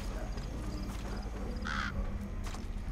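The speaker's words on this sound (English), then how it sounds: "Oh, is it a crow?" A crow caws in the video game Metal Gear Solid V: The Phantom Pain, a single short harsh call rising above steady outdoor game ambience.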